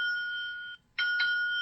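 A phone rings after the find-phone feature is triggered from a Fire-Boltt Super Nova smartwatch. A steady electronic ringtone plays loud and alone, cuts out briefly, then resumes with pulsing beeps.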